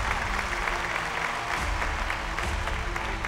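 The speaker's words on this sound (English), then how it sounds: "Can we have a huge round of applause?" An audience at a beauty pageant grand finale breaks into loud, sustained applause for a crowned winner, dense clapping filling the hall with a few cheers mixed in.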